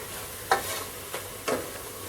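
Home-ground spice powder roasting in a pan for a Kuttanad-style duck curry, with a few soft scraping stirs and a faint sizzle.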